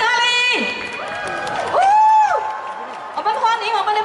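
An audience at a Chen-style tai chi demonstration in Singapore cheers and whoops loudly, with rising and falling shouts layered over a continuous crowd roar throughout.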